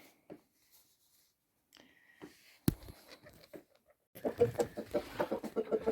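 Chickens clucking nearby, sparse at first and then a quick, busy run of clucks toward the end, with a few scattered knocks and rustles.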